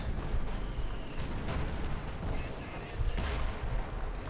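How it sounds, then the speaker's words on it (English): Artillery fire and gunshots in the World War II strategy game Company of Heroes 2, booming and cracking repeatedly through a dense, continuous battle din during a 4v4 match, with heavier thumps near the middle and end. "The artillery is being used."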